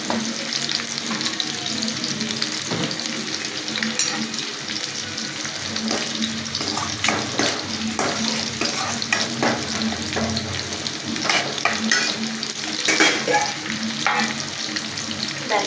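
Spices with a little turmeric and sambar powder frying in a pan for lunch, a dense continuous crackling sizzle with occasional sharper pops and stirring scrapes, close and steady for the whole stretch.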